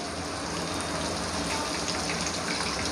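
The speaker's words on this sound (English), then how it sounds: "Now I'm showing you how to fry the kababs." Chicken kebabs frying in hot oil with curry leaves, a dense, even crackling hiss that holds steady throughout, close and without speech.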